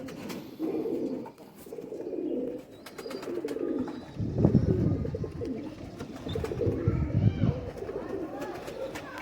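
Pigeons coo in low, throaty bursts, repeated several times at close range, with louder rumbling coos midway and faint chirps above.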